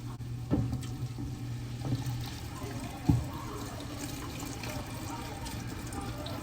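Broth and leftover water from cooked meat pour steadily into a pot, giving a continuous liquid rush with a few small knocks of the container, close and moderately loud.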